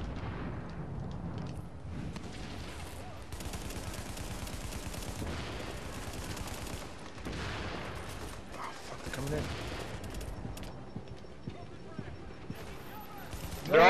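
Gunfire in The Division, in the Grand Central Station mission, crackles in dense bursts and volleys at moderate volume while players talk over it.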